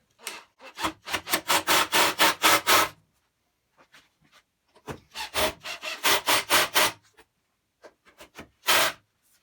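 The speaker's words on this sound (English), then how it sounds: "Now all I'm going to do is screw these in." Screws being driven into a wooden piano stand, heard as two long runs of rapid, rhythmic grinding bursts, close and loud, separated by quieter small knocks and handling, then one last short burst.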